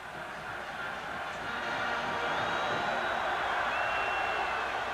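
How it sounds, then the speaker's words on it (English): Large football stadium crowd of mostly Gator fans at Florida Field during a 1982 LSU at Florida game, a steady broad roar that swells after the first second and holds loud throughout. "Crowd on its feet here at Florida Field"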